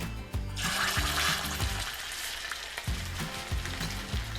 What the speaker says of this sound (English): we're gonna sear these ribs